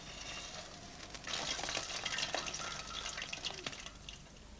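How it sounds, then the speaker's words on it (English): Gulab jamun dough balls deep frying in hot oil, heard as a soft, continuous bubbling sizzle that swells a little after the first second and holds steady. "Gulab jamun, as it is called, is then deep fried."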